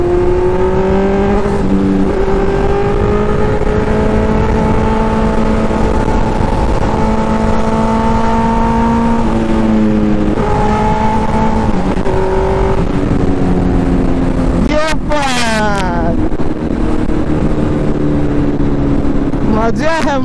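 A Kawasaki ZX10R sport motorcycle on a road ride hums loudly and continuously, its engine note stepping up and down through the revs over heavy wind rush while the rider talks over it.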